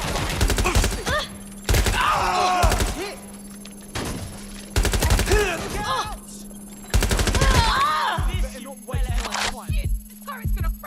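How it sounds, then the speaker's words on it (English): Bursts of automated turret gunfire in the video game Watch Dogs Legion, loud rapid volleys in several separate bursts with short gaps, mixed with shouted voices and groans. "This turret's gonna fry you!"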